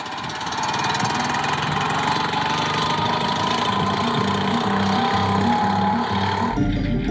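A small Fiat 126p Maluch engine runs steadily and loud on the Pamir Highway in Tajikistan, a buzzy, slightly knocking drone holding even for several seconds before cutting abruptly near the end.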